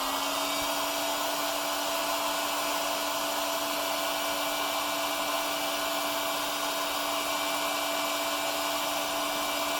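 A heat gun on its low setting, warming faded Polaris 455 ATV plastics, runs with a constant whirring fan hum and steady airy hiss, unchanging and close throughout.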